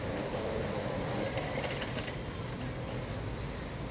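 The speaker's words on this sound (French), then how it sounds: "c'est le métro souterrain" Underground metro train in Bangkok, a steady loud rumble and mechanical rattle from inside the moving carriage, continuous throughout with no clear speech.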